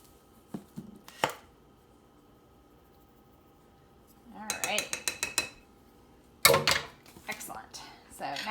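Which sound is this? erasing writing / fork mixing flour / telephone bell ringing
fork mixing flour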